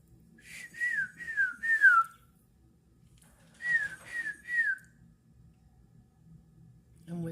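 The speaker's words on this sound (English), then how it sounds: "I'm whistling." A person whistles in two bird-like phrases, each a quick run of three or four falling chirps, heard outdoors on a front porch in the early morning against a quiet background.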